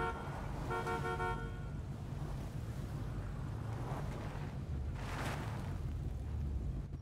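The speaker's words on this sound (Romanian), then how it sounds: "Nu mai claxona, mă." A car horn honks in GTA 5 FiveM, a short harmonic toot near the start over a steady wash of engine, wind and ambient noise, with a brief brighter burst later.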